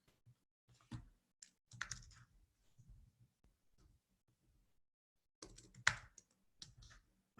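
Computer keyboard typed in scattered short bursts of soft clicks and taps separated by silent gaps, quiet and close, with a louder cluster near the end.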